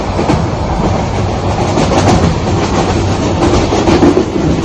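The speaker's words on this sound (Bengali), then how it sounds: "ট্রেনের আওয়াজটা শোনালাম," A passenger train on the Bangladeshi line toward Chittagong and Cox's Bazar rumbles loudly and continuously from close inside, with a rough clickety-clack of wheels over rail joints and no voices.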